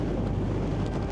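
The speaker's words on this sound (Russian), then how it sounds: "Ой, ветер-то дует-то, вообще с ног валит" Strong wind gusts steadily across an exposed coastal sand dune, a continuous loud roar battering the microphone with no pauses.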